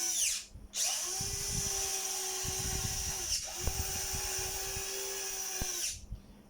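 An electric drill whines in two long steady runs separated by a brief pause, close up, while working on a Huina 1592 toy excavator's servo, with a faint rattling underneath.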